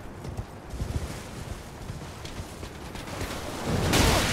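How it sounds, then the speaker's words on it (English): Horse hooves clip-clop in rhythm in Elden Ring Shadow of the Erdtree over a windy backdrop, then swell into a louder rushing surge near the end, with no speech. "I can't get off my horse"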